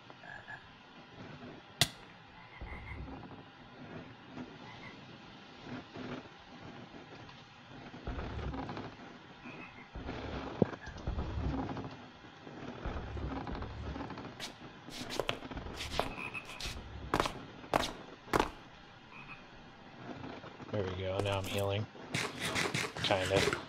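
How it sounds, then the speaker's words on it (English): Frogs croak repeatedly in the video game Minecraft with the Homestead mod pack, with steady ambient noise and scattered clicks, while a person talks over much of it. "I thought the frog noises were happening because I was stepping on those things."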